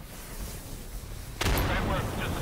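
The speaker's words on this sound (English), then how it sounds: "I'm using an incendiary." Incendiary grenade in Insurgency, a sudden loud whooshing burst that rises out of steady background battle rumble and then settles into a sustained roaring hiss of burning.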